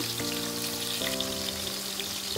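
Prawns frying in hot oil in a kadai, a dense, loud, steady sizzle and crackle that holds unbroken from start to finish, close by with no voices.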